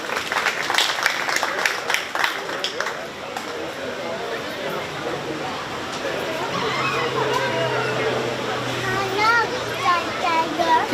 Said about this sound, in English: Let's give these exhibitors a nice round of